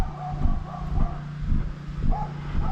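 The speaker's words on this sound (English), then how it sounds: "doggy barking at me." A dog barks and yips in a rhythmic series of about five close, fairly loud bursts during an outdoor walk in Lewiston, Maine.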